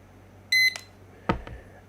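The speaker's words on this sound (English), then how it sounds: "Beep comes from that." A Zeppin lap timer for RC and Mini-Z cars beeps through a Bluetooth speaker: a short high electronic tone, then a couple of sharp clicks, clear and close in a quiet room.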